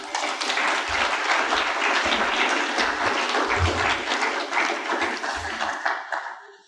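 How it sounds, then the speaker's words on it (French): Sustained, full applause from a conference audience at a political gathering, a thick steady roar of many hands with low thumps underneath, tapering off toward the end. "Merci d'applaudir."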